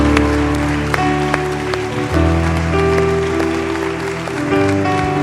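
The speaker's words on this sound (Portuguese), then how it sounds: "libera um brado e aplauda Jesus bem forte" Church congregation applauding and cheering during a sermon, a steady dense wash of clapping and crowd noise over sustained background tones lasting the whole stretch.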